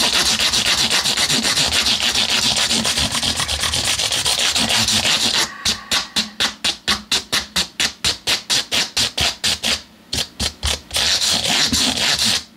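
Frets on a Stratocaster guitar are sanded by hand with 320 grit abrasive: a loud, steady rasping rub that breaks into a quick run of rhythmic back-and-forth strokes, then turns continuous again.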